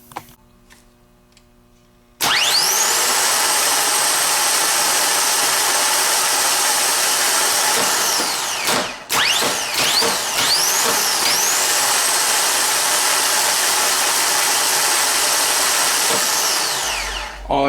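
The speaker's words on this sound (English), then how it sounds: "We're going to show you how to free spin, and you can get an idea of what it sounds like" A Harley electric reverse starter motor, clamped in a vise, free spins with a loud, steady high-pitched whine after a click on engagement, briefly dipping mid-run before winding back up.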